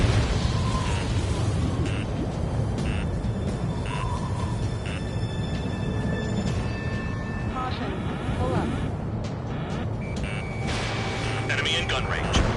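In Ace Combat 7, explosions tear through an enemy radar site, a continuous roaring rumble punctuated by repeated sharp blasts and pops, loud and close, with radio voices talking over the din.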